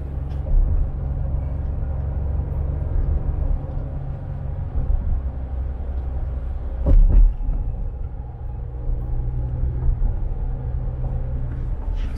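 A Ford truck's 2.7 EcoBoost engine pulling a heavy towed load, producing a steady deep droning rumble with a brief heavy thump partway through, and no talking.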